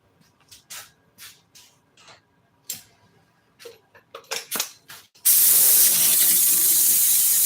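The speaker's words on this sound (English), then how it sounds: "especially whenever I spray some glue over that right there" Scattered light clicks and taps, then a loud continuous aerosol hiss as glue sprays steadily from a can up close onto a Corvette seat.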